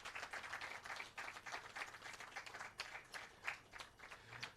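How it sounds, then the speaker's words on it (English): Audience applause at a Jamaican low-cost housing design competition ceremony honoring winners, a fairly faint, steady patter of many hands clapping throughout, with a few louder swells. "I will ask you for a big round of applause for all our winners"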